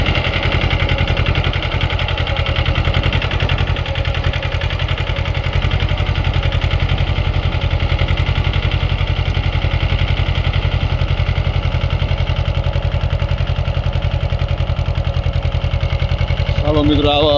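Mahindra Jivo 225 tractor pulling a harrow through a fodder field, its engine droning steadily and loudly at close range with an even, unbroken rumble throughout.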